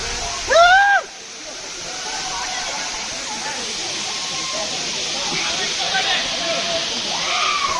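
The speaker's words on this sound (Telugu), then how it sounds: "కటికి వాటర్ ఫాల్" Katiki waterfall at Araku roars as a steady, dense rush of falling water, with a brief voice at the start and faint crowd chatter beneath the continuous hiss.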